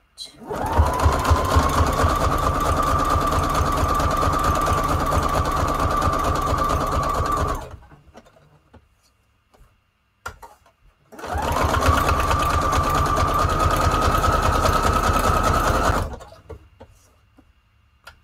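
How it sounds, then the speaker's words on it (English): A sewing machine runs a zigzag stitch around a junk journal paper tag in two long, steady bursts with a short pause between them, loud and close, with no talking. "We're putting a zigzag stitch."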